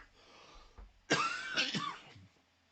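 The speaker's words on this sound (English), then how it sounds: "getting the cough again" A person coughing in a few harsh, close bursts, with a softer throat-clearing sound just before and quieter breathing trailing after.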